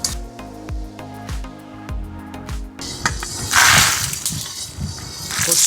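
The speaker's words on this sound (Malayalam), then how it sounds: "പൊട്ടിപ്പൊട്ടി തുടങ്ങി." About 1.25 cups of whole coriander seeds dry-roasting in a very hot pan for sambar masala, giving a dense crackling sizzle that starts abruptly midway and keeps popping close up, with no talk.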